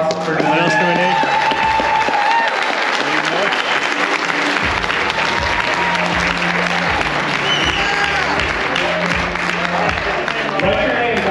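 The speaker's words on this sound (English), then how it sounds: "Can we all give Nate a round of applause for doing that?" Loud, sustained applause from a crowd, with music and voices mixed in underneath throughout.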